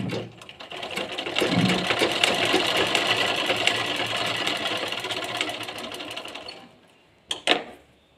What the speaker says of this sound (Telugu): ఎటువైపు అయినా కుట్టుకోండి, ఒక్క వైపే కుట్టుకోండి